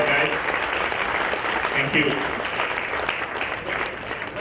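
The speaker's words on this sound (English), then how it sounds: "Give us all a big round of applause, guys." Steady applause from the audience at the close of a customer experience summit, continuous clapping across the hall with a voice speaking briefly over it.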